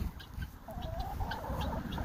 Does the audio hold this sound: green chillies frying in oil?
no